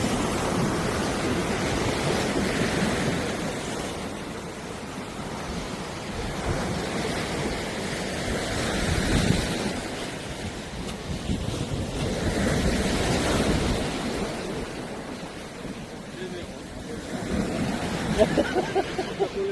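Sea waves break and wash onto a shore near Pohang, a steady rolling surf with swells rising and falling, mixed with wind buffeting the microphone and no talk.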